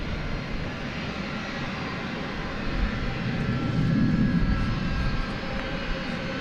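A jet airliner in a distinctive elegant livery taxis at DFW Airport, a steady broadband engine roar at moderate distance that swells slightly midway as it moves along, with no voices.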